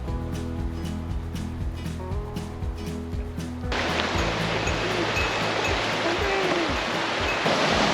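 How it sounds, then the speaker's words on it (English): A river runs beside a hiking trail in Denali National Park, its steady, broad rush of moving water swelling in loudly partway through after a quieter stretch with a voice and rhythmic sounds. "you have the river running by, which is just like a nice, calm, moving water sound"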